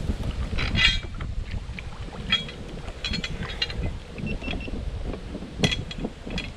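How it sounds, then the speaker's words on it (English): Wind gusts across a lake while out boating for catfish and pike, buffeting the microphone with a low rumble and breathy gusts, with occasional light knocks and splashes against the boat. "The wind kind of picked up a little bit, which kind of sucks"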